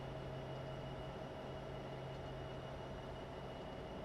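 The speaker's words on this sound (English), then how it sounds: "This is a long train." Long freight train hauled by an EMD SD75 locomotive in Train Simulator 2017, a continuous low diesel drone with steady rumbling rail noise and a faint sustained tone, unbroken and without talk.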